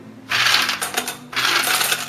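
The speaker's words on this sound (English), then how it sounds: "So in a bowl I'm going to add some ice cubes" Ice cubes tumble into a bowl for an ice bath in two loud, rattling bursts of clattering and clinking, close up, with a brief pause between them and no speech.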